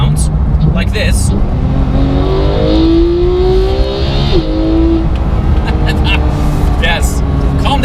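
A Porsche 991 GT3 with a Sharkwerks bypass exhaust revs and accelerates with a rising, throaty note, loud and close, under a constant rumble of road noise.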